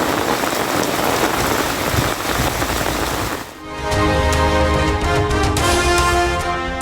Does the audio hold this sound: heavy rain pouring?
yes